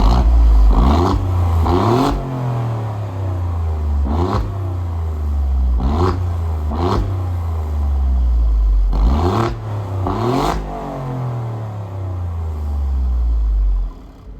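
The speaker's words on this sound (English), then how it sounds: "It's got quad exhausts, two on both sides, set in really distinctive way, and the sound is great." A car with a standard, unmodified quad exhaust, two tips on each side, revs repeatedly from idle. It gives about eight sharp, loud blips that each fall back to a deep idle rumble.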